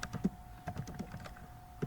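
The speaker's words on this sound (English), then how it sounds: "Then you press the enter key from the keyboard." Typing on a computer keyboard while entering commands in Command Prompt to build a bootable USB drive: close, irregular keystroke clicks with a few heavier key taps scattered through.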